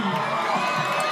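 Stadium crowd cheering and shouting at a professional ultimate frisbee game between DC Breeze and Toronto Rush at Varsity Stadium in Toronto, a steady, dense wash of voices throughout.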